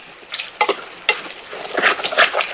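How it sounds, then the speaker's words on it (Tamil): Tomatoes being stirred into frying onions for mutton rice: irregular spatula scrapes and clatters against the pan over a soft sizzle, close up and fairly loud, with no voices. "தக்காளியை நல்லா மிக்ஸ் பண்ணிவிடுவோம்"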